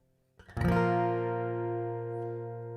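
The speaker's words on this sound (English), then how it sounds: "let me mute the microphone so you can hear what the guitar sounds like by itself" Guitar heard through its pickup alone with the microphone muted, a single strummed chord with a sharp attack that rings out brightly and sustains evenly.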